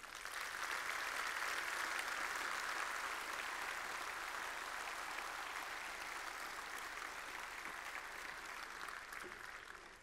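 An audience at a company New Year event applauds in tribute, with dense, steady clapping filling the whole stretch and fading slightly toward the end.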